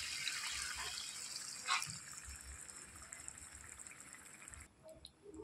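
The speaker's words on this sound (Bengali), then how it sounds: "দিয়ে দিচ্ছি পরিমাণ মতো জল" Water trickles and splashes into a pan of masala chicken as it is added for simmering, a faint, steady pouring with one brief louder splash before stopping near the end.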